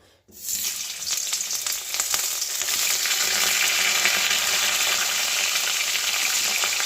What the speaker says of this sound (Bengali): মাছের মাথা দুটো আগে ভেজে নিই